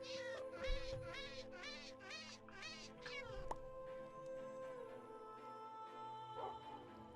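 A cat meows repeatedly in Minecraft 1.19.3, a quick series of six or seven rising and falling mews close up over a steady hum, then quieter ambient noise with a faint later cry.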